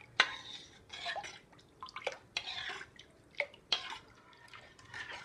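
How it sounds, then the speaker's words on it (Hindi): Rice flour batter stirred in a pot over a high flame with a long-handled spoon, giving soft wet sloshes and sharp scattered clinks at an irregular rhythm, close and fairly quiet. "तो हमने इस घोल को यहाँ पर तेज़ फ्लेम पर चढ़ा दिया है और अब हमको इसे लगातार तब तक चलाते रहना है"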